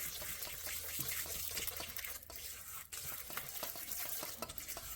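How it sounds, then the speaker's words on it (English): Chicken wings get stirred and tossed with mustard and seasoning in a bowl, producing wet, sticky squelching and scraping that continues without pause, with no voices. "we're going to mix it up to make sure that my mustard and seasoning is well mixed together"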